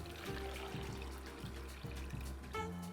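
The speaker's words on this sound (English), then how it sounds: "we're gonna pour our water in this container" Water pours into a container while wheatpaste is being mixed, a steady close trickling and glugging stream with a few shifts in pitch as it fills, quiet overall.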